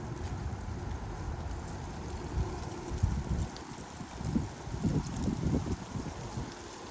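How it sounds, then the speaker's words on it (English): Strong wind during a wind advisory in St. Louis, Missouri, a steady low roar of rushing air and microphone buffeting that swells into louder gusts in the second half. "Like just the wind."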